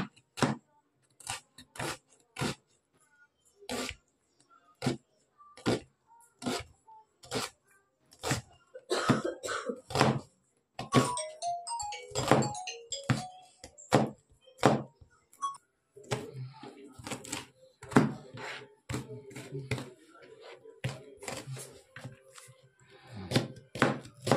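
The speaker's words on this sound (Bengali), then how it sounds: "এখানে 2টা পেঁয়াজ কেটে নিচ্ছি।" A knife chops two large onions on a board in a home kitchen, sharp separate knocks coming in an uneven rhythm, with some clinking of dishes and a cough between strokes.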